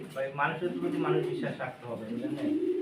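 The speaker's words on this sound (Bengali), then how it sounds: "আমার এখানে যে কবুতরগুলো দেখছেন টোটাল সব কবুতরগুলো কি সুস্থ সবল আছে" Pigeons cooing in low, throaty, repeated murmurs close by, mixed with a person talking.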